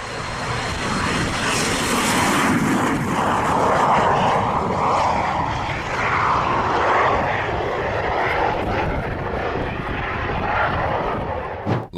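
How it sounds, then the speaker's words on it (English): An airplane crash-landing after engine failure, heard as a continuous loud roar of engine and rushing noise that swells and fades over several seconds, with no talking. "Landed too quickly, and engine failure caused the plane to burst into flames on its runway."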